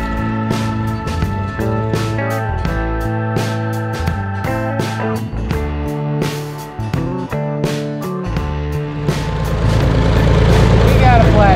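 An old auction tractor, just fitted with a replacement pump, runs and drives, its engine droning loud and close with a pitch that steps up and down before revving harder near the end, while people talk over it.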